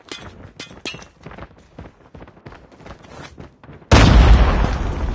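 Scattered rapid gunfire pops and cracks in Call of Duty, then a grenade goes off in a sudden loud explosion whose roar lingers to the end.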